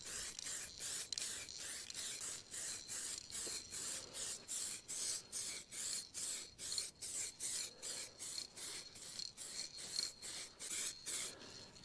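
Short bursts of aerosol spray paint hiss onto an engine part from a BMW M54 oil pump job, coating it in aluminum-finish paint: a quick, even series of roughly two dozen close puffs.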